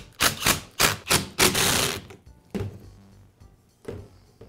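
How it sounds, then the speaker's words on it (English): Screws being driven to secure the gearbox on a Makita polisher during a bearing repair: a few quick, loud mechanical bursts of a driver, then lighter clicks and handling knocks. "And I'll secure the gearbox with the screws."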